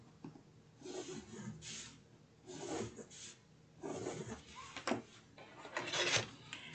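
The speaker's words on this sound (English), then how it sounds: "pressing against the chipboard and driving it into the paper itself to get a nice little score" Paper is scored by pressing a tool along chipboard edges, giving soft rasping rubs in several short bursts, close and fairly quiet.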